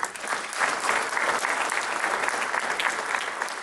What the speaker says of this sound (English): please give yourselves a big round of applause for being here today